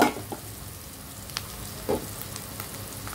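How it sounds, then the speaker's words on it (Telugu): Onion frying in a pan sizzles with a soft, steady crackle, broken by a few sharper clatters of stirring, close and alone without speech. "కొంచెం ఉల్లిపాయ వేగనిద్దాము."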